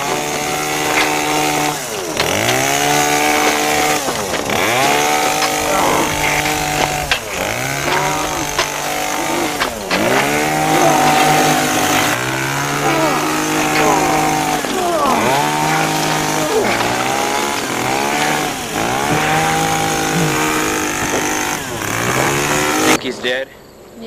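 A chainsaw runs close and loud, its engine repeatedly revving up and dropping back in uneven surges, with people talking over it throughout.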